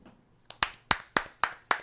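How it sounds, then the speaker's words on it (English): A few people clap in a hallway of an office building, six sharp distinct claps after a brief soft tap, spaced roughly evenly and close by, with no voices. "Senny, let's clap for us."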